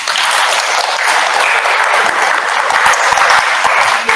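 An audience applauds after a lecture on AI and the future at a parent training session, sustained loud clapping filling the whole stretch without a break.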